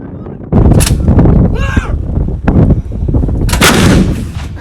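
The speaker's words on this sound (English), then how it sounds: "a CRAM, which is a device that can destroy incoming rockets, missiles, or any type of heavy machinery like that" A C-RAM defense system fires in loud, sharp bursts of heavy artillery-like reports, several blasts separated by short gaps and echoing rumble, close and dominant.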